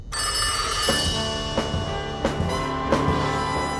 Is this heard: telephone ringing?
yes